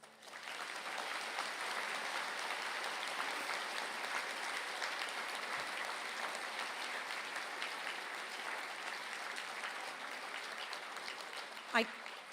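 A graduation audience gives steady, dense applause in a large conferring hall, many hands clapping evenly for about twelve seconds with a faint voice murmuring beneath it.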